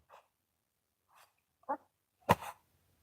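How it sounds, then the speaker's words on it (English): Dog barking softly in its sleep, a few faint muffled woofs and huffs spaced apart in a quiet room, ending with a slightly louder snorting bark. "It's always cute when he has his little barky sleep."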